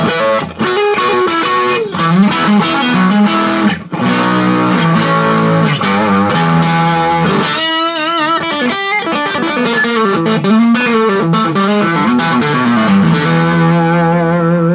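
A Stratocaster electric guitar plays Hendrix-style chords through a distortion pedal, loud and sustained, with ringing overdriven chord changes and brief muted pauses.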